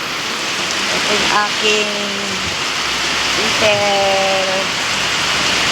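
Rain pours steadily over a small home garden, a dense continuous hiss, while a person speaks over it.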